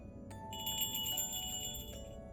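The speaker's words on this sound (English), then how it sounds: "the sound of the bell meant that her friend was coming?" A bell chimes in a video game, a bright ringing tone that starts sharply, holds its shimmering ring for over a second and then cuts off, with faint background under it.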